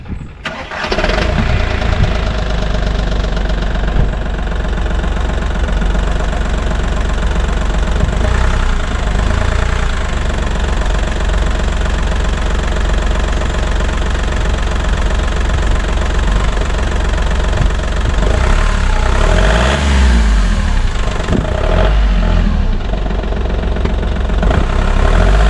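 An engine cranks and catches, then settles into a loud, steady rumbling idle that runs on for a long stretch, with no talking.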